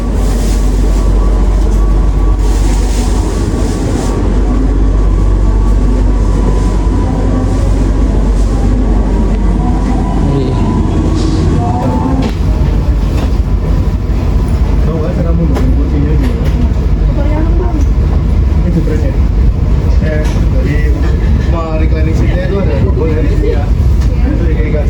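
Interior rumble of the KA Kamandaka New Generation economy passenger train on its inaugural Semarang run, a steady loud low drone with rattles throughout, with people talking over it.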